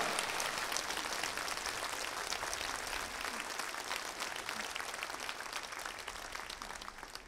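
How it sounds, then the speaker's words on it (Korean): Steady, dense applause from a large church congregation during a Sunday service, sustained throughout at an even level with no voices standing out. "나오실 때 우리 큰 박수로 목사님 모시도록 하겠습니다"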